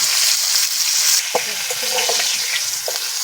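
Cauliflower florets fry in hot oil in a wok with turmeric and salt, giving a steady loud sizzle throughout, with a few soft clicks of stirring near the middle and no voices.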